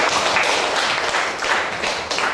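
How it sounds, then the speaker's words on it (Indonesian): A classroom of students claps together, a dense, even patter of many hands sustained throughout at close range. "tepuk tangan ya semuanya"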